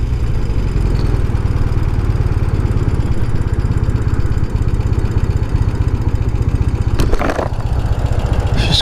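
A fully restored 1971 BMW R60/5 motorcycle idles with a steady, even low thrum, close and continuous, with a brief clattering knock near the end.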